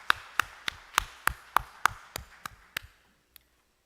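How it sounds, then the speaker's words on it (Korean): A church congregation responds during a Sunday afternoon service with about ten sharp, evenly spaced claps that form one rhythmic group and then trail off. A single late clap follows before the sound falls quiet. "우리 오늘 예배를 받으신 하나님 감사의 박수를 드립니다."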